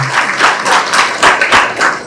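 A crowd at a temple festival meeting in Vinukonda bursts into applause, dense rapid clapping in swelling waves, close and loud, with a few faint voices mixed in.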